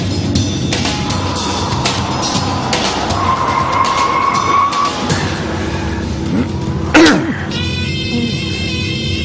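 A car driven recklessly skids, with a long tire squeal in the middle and a sharp thump near the end, among rumbling engine noise and scattered clicks.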